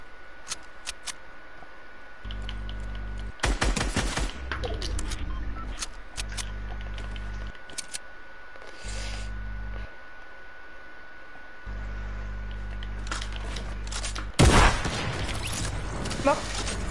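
Gunfire and sniper shots in a shooter video game, sharp cracks and bursts scattered irregularly over the stretch, a loud volley near the end, with voices talking between shots.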